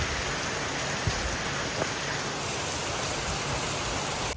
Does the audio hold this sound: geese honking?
no